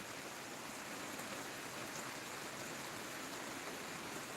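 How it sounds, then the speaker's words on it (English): Steady rain falling on Bull Shoals Lake in the morning, an even, dense hiss of drops on water that holds constant and fairly soft throughout, with no voices. "I'm just enjoying the sound of the rain this morning on BullShoals Lake."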